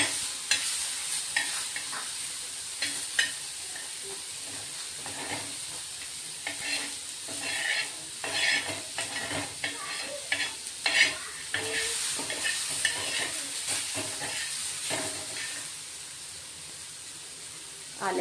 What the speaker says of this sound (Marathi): टोमॅटोही थोडे परतून घ्यायचे.